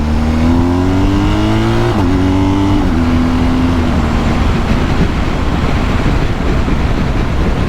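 A BMW GS motorcycle accelerating hard, its engine note climbing through gears with a loud, rising drone that fades into heavy wind and road rush.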